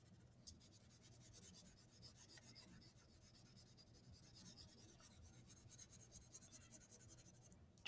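Soft, steady scratching of a pencil coloring in a street area on paper during a kids' art class, a faint continuous rubbing rasp with slight rhythmic strokes.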